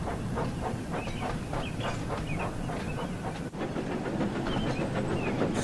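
A steam locomotive puffs along the line in a steady rhythm of hissing chuffs over rolling wheel noise, close and continuous.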